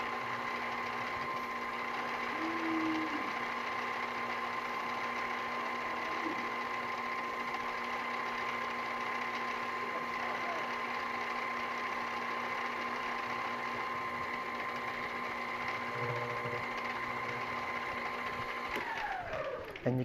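A metal lathe spins steadily while a workpiece is polished with cheesecloth and Tripoli compound, giving an unbroken, even mechanical hum with a faint whine that holds for the whole stretch before easing off at the very end.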